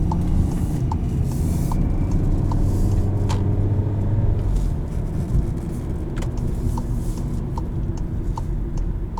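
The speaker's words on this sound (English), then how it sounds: "They do sound really good, those new Raptors." A new Ford Raptor pickup's engine rumbles nearby in a deep, steady drone, with scattered clicks and knocks on top and a slight drop in level partway through.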